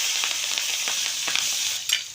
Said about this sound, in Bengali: জিরে ফোড়ন দিলাম, কাঁচা লঙ্কা ফোড়ন দিলাম